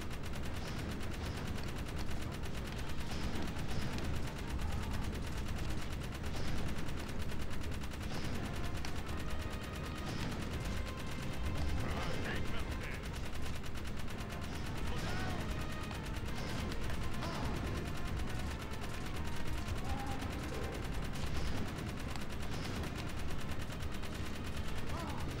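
Dense gunfire in the video game Jak 3, continuous rapid shots and explosions packed into a loud, unbroken wall of game combat noise.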